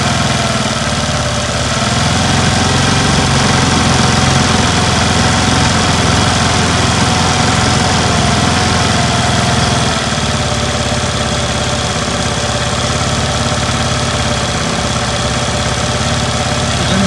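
A Honda Activa scooter engine idling with an RPM and accelerator fault, a steady close mechanical drone with a slight knocking texture and gradual shifts in engine speed.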